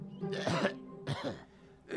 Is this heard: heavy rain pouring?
no